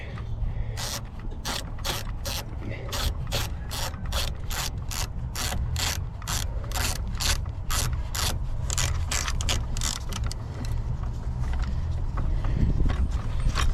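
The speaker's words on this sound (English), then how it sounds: "Love flex head ratchets just for this reason" Flex head ratchet loosening a battery hold-down bolt on a 2019 Chevy Silverado 1500, a fast steady run of sharp pawl clicks, close and loud, continuing throughout with no talk.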